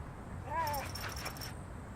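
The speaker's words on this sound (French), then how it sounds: "T'es un rottweiler de 125 litres" A rottweiler guard dog gives one short, rising-and-falling whimper, faint against steady background noise, with a voice murmuring nearby.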